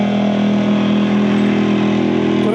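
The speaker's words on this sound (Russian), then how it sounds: "Трактор. Представляете, как там внутри сидеть, да? Какая там вибрация." A tractor engine runs during a crossing over the Lena River amid the spring ice drift near Yakutsk, a loud, steady low drone with strong harmonic hum that holds constant throughout.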